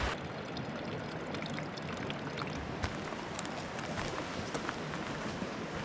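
Water from a Shenandoah National Park backcountry source trickling steadily through a Katadyn BeFree squeeze filter, a continuous close pouring and dribbling wash with small splashes and no talking.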